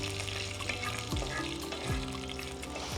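Curry leaves fry in hot oil for a mango pickle, a steady close sizzle with soft stirring scrapes and brief gliding tones over a continuous bubbling base.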